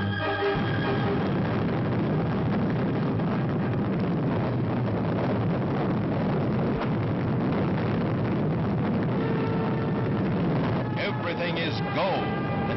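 Atlas rocket launching the Mercury Friendship 7 capsule, a loud continuous roar that fills the whole stretch from start to finish, steady and dense.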